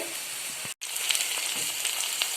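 Ivy gourd sautés in a hot pan for a poriyal, giving a steady, close sizzle and hiss. A brief gap cuts through it, then the frying resumes with light crackles.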